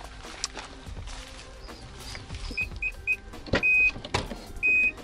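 An electric power window on a used Infiniti car at a car market hums as it moves, with short electronic beeps and clicks from inside the vehicle.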